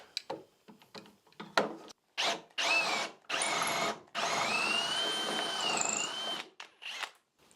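A drill press motor whirs in several bursts while drilling a clearance hole for a lead screw, short stuttering pulses and then two longer sustained runs that stop and start, close by.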